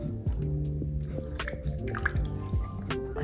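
Water drips and trickles from thick, chunky recycled paper pulp pressed between two screens, a run of close, wet patters over a steady tonal backing with no talk.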